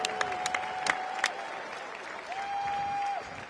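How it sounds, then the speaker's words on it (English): A boxing arena crowd at the American Airlines Center applauds for the boxers in the ring after a championship fight, a steady wash of clapping and cheering with a couple of whistles, moderately loud and continuous. "how about a big round of applause for our boxers here inside the ring tonight"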